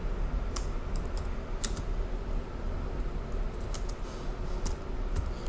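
Steady typing on a computer keyboard, with irregular light clicks spread across the whole stretch over a constant low room hum; no one speaks.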